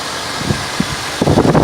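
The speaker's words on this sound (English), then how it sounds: "We're going to turn the engine on, and hopefully we won't have that sewing machine sound anymore." A car engine runs after its drive belt has been retightened, giving a steady close mechanical hum with a few small knocks and a louder rise near the end.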